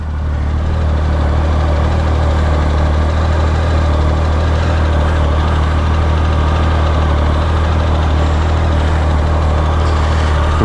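A Triumph Speed Triple motorcycle engine idles up close as it warms up after starting, giving a loud, steady, throbbing rumble with even low pulses throughout and no talking.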